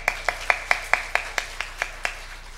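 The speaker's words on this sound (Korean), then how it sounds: "이럴 땐 박수 한번 칩니다" A church congregation at a Wednesday service claps in unison: about eleven sharp, evenly spaced claps in a quick steady rhythm, moderately close, gradually softening and slowing slightly toward the end, with no talking over them.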